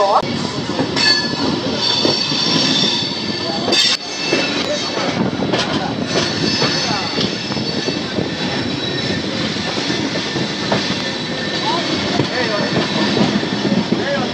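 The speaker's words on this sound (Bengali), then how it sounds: "ইতিমধ্যে আমাদের ট্রেন কিন্তু খড়গপুর জাংশন থেকে ছেড়ে দিল।" The 12821 Dhauli Express pulls out of Kharagpur Junction, its carriages rumbling loudly and continuously from onboard, with wheel and rail clatter and a brief squeal-like burst early on.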